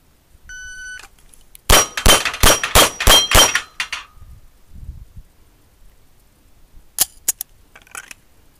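Pistol shots ring against steel plates on a plate rack at 7 yards: a quick string of about six sharp, loud metallic clangs, then a pause and a few more scattered hits and rings.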